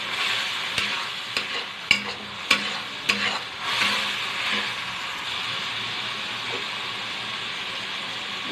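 Ground tomato paste being lightly fried for a chickpea chana masala, several sharp spatula knocks against the pan early on, then a soft steady sizzle fading lower, close-up with no speech.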